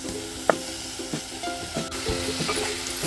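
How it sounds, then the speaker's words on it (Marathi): Tomatoes sautéing in a pan for UP-style matar ka nimona, a steady close sizzle broken by several scraping stirs of a spoon against the pan, with no talking. "टोमॅटो छान परतून घ्यायचे।"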